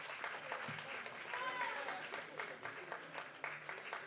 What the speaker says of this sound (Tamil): ஒரு பெரிய கைத்தட்டலோட சார வரவேற்கலாம்.